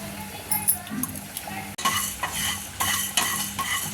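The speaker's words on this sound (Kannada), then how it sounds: "ಈಗ ಎಲ್ಲ ಮಸಾಲೆ ಐಟಮ್ಸು ಹಾಗೆ ಒಣಕಾಯಿ ತುರಿ ಎಲ್ಲವನ್ನು ಸಹ ನಾವು ಫ್ರೈ ಮಾಡ್ತಾ ಇದ್ದೀವಿ" Spices, dry chilies and grated dry coconut are dry-roasted in a pan, with a utensil scraping and stirring in bursts and light metallic clinks, close and moderately loud.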